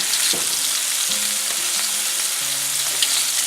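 Mushroom steak pieces browning in a hot pan give a steady, close, continuous sizzle with faint low hum lines underneath and no talk.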